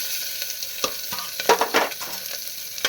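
Dried red chili, whole cumin, onion and garlic fry in hot oil for a lentil and pumpkin-greens dish. There is a steady close hiss with brief crackles and stirring scrapes.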